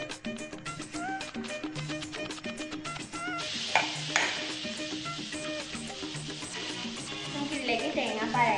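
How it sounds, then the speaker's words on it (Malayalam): Jaggery syrup pours into a payasam pot and is stirred, a steady clinking and sloshing with rhythmic spoon strikes against the vessel, growing busier and louder near the end, with no talk. "നമുക്ക് ഇതിലേക്ക് ശർക്കര പാനി ഒഴിച്ച് മിക്സ് ചെയ്യാം"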